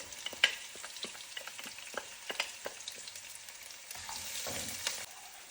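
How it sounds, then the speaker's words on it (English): Peppercorns, garlic and ginger sauté in oil over low to medium heat, a quiet continuous sizzle broken by a few sharp scrapes and taps of a spoon stirring the pan. "and then add your peppercorn, and then also add your garlic, and ginger"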